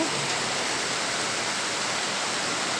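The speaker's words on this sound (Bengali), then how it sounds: "কত সুন্দর বৃষ্টি হইতেছে" Steady rain falls in a dense, even hiss with no gaps or individual drops standing out, fairly loud and unbroken for the whole stretch.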